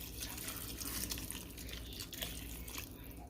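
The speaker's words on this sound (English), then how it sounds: "I'm just going to cover those potatoes with some water" Water runs and splashes into a pot of potatoes seasoned with chicken bouillon powder and spices, a faint, continuous trickling pour with small splashes and no talk.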